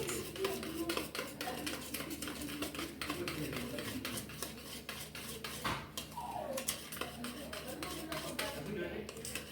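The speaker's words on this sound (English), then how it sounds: "So I'll just whisk a little bit." A whisk beats cake batter for a vanilla cake in a bowl, producing a quick, steady run of faint ticking strokes with light clinks throughout.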